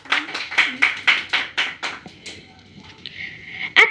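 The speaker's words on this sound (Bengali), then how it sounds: "আমরা করতালির মাধ্যমে তাকে মঞ্চে আমন্ত্রণ জানাচ্ছি" A small crowd at a cultural program claps to welcome a student reciter to the stage; sparse, quick claps come in a short burst, then thin out and fade before one last clap.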